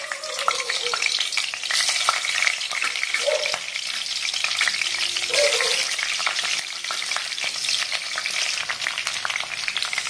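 Onions sizzling and frying in hot oil for a fish curry (small-fish pulusu), a steady close crackle with occasional stirring scrapes, no talk.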